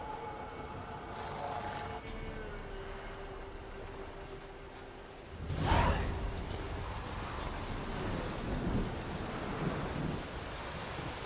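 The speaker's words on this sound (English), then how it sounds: "There's lightning all over the place, rain is pouring, wind is rustling." A thunderstorm rages in The Witcher 3 at night: steady rain and wind with a sharp, loud thunder crack midway that rumbles on, alone without speech.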